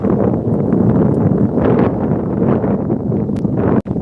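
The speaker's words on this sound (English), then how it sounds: "And if you can hear it, it is windy." Strong wind buffets the microphone in a constant low rumbling roar, with faint rustling mixed in and a brief dropout near the end.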